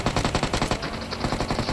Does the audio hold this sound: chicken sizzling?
no